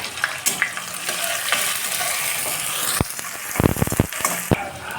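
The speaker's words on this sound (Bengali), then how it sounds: "মিনিট খানেক ভালোভাবে ভেজে নেব।" Chopped onion, crushed garlic and whole cumin fry in a pan with a loud, steady sizzle. Sharp scraping stirs break through the hiss near the end.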